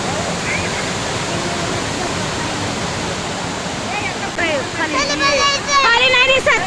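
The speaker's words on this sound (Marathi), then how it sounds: "तिथे जवळच एक धबधबा होता छोटासा, तिथे थांबलो होतो" A small waterfall in the hills near Lavasa rushes with a loud, steady hiss of falling water. Voices join over it toward the end.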